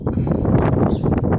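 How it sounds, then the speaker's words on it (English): Steady low rumbling wind buffeting a microphone, loud and continuous throughout, with no voices. "Sorry about the wind."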